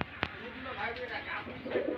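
Rajshahi Giribaz pigeons kept at home, soft low cooing heard close by, with a sharp click near the start and a person talking over part of it.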